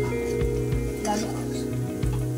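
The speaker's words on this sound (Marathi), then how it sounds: "गॅस स्लो फ्लेम वरती ठेवायचा आहे आणि कांदा तुम्ही लाल करून घ्यायचा आहे छान प्रकारे" Onion frying over a slow flame, a close sizzle broken by a few spatula knocks and scrapes against the pan.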